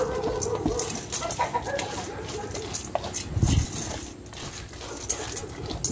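Chickens cluck and chatter close by amid scattered farmyard noise, with a brief louder thump partway through.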